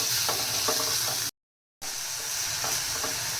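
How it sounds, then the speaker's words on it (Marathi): Masala spices sizzling and frying in a pan for dry shrimp chutney, a loud steady hiss with soft stirring scrapes, broken by a brief silent gap. "हे बघा इथे छान मस्त मसाला सर्व फ्राय झाला आहे"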